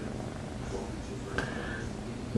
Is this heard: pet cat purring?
yes